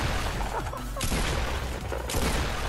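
Fortnite gunfire rings out in dense, loud bursts, two broadband volleys a second apart amid ongoing in-game noise, with no speech heard.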